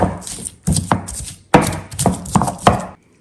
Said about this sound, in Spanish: Vamos a empezar a moler.